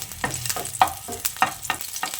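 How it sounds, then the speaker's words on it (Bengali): Garlic cloves and green chillies fry in mustard oil with a low sizzle, punctuated by a quick, rhythmic run of spatula strokes against the pan. "এবার রসুন আর কাঁচা লঙ্কাটা দিয়ে কিছুক্ষণ ভেজে নিচ্ছি।"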